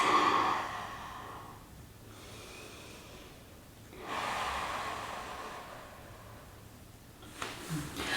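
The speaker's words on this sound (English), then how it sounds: "Taking a couple of deep breaths." Slow, deep breaths during a mat stretch, each soft inhale and exhale airy and close, rising and fading in a calm rhythm over a quiet room.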